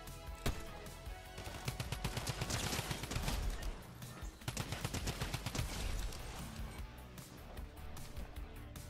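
Rapid drum gun fire rattles through a video game match, a dense run of quick shots in bursts with brief pauses, fairly faint overall.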